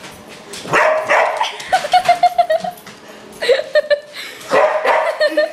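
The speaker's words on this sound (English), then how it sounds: "She likes to bark at you." Dog barking in short excited bursts indoors, close and loud, with whimpering and laughter mixed in between barks.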